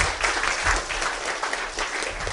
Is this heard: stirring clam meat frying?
no